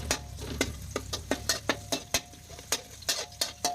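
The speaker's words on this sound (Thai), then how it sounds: "แล้วก็ผัดกระเทียมให้หอมๆ" Crushed garlic is stir-fried in an iron wok. A metal spatula makes rapid, regular scraping taps against the pan over a faint sizzle, close and alone.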